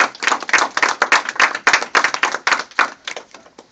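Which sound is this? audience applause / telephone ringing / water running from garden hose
audience applause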